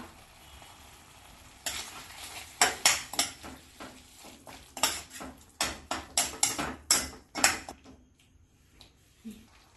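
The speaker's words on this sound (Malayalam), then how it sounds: "ഇനി ഇതിലേക്ക് 2 ടീസ്പൂൺ ബ്രൗൺ ഷുഗറോ പാം ഷുഗറോ ചേർത്ത് ഇളക്കി കൊടുക്കാം" Brown or palm sugar stirred into sambal in a pan for nasi lemak, with a faint sizzle under a quick run of rhythmic metal spatula scrapes and knocks that fades to quiet.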